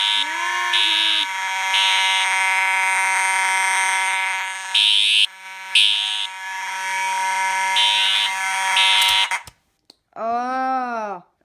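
A fire alarm under test blares at very close range, a continuous harsh electronic tone with repeated higher pulsing beeps layered over it for about nine seconds. It cuts off abruptly, and a voice follows right after.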